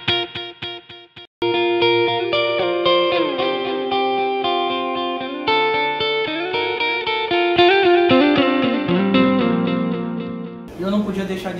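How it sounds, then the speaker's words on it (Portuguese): Electric guitar played through a Line 6 POD HD400 multi-effects unit with ping-pong delay, sustained chords and picked notes trailing echoes, loud and dense, with a brief voice at the very end. "Delay ping-pong também, bem interessante."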